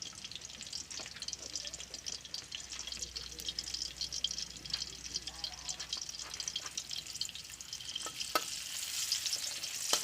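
Garlic and aromatics sizzle and fry in a pan while being stirred before cucumber goes in, a continuous crackling hiss with scraping stir strokes and scattered clicks, a voice speaking briefly in the background.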